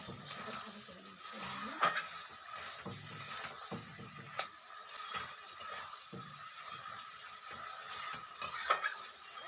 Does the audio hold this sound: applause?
no